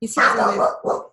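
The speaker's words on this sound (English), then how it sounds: "sorry, that's my dog." A pet dog named Gordon gives a quick loud bark close by, followed by a shorter second yelp, overlapping someone speaking indoors.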